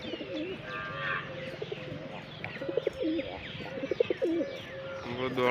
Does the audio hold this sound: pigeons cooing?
yes